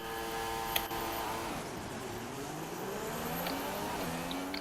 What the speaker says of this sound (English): Hold the clutch in, hold the rev, and try not to jump the start